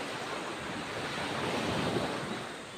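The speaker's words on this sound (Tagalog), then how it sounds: "Ito yung dagat sa umaga." Morning sea waves wash onto a black sand beach in Bagac, Bataan, a steady broadband surf roar that swells slightly toward the middle, heard alone with no voices.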